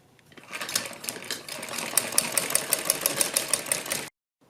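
A sewing machine stitches a garment sleeve in a close, steady run of rapid needle clatter with a rhythmic pulse, stopping abruptly near the end.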